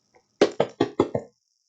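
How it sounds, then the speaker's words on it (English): A loud knock on a door: five sharp, evenly spaced raps in quick succession after a faint tap, heard alone and close with no voices. "there was a loud knock on the door"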